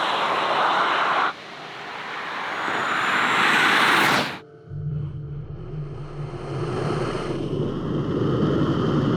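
Tesla Model S Plaid, a three-motor all-wheel-drive electric car, accelerating past 100 mph, with loud rushing wind and road roar that swells, drops out sharply, then returns as a steady lower rumble.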